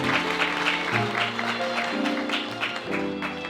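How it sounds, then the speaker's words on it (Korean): Wedding guests applaud at a ceremony, a steady dense wash of clapping that holds for the whole stretch, with a music bed or announcer tones underneath. "끝까지 큰 박수 부탁드리겠습니다."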